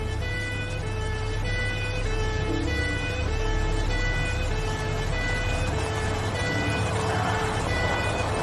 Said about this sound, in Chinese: 官员总监的警车